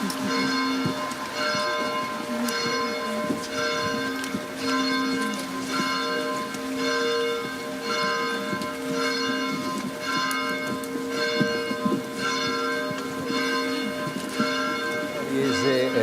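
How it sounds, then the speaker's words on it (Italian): Church bells of Riese Pio X peal in a steady, continuous ringing with repeated strikes, loud and sustained throughout, with faint background sounds of a gathering. "Sentite le campane della chiesa di Riese Pio X suonare"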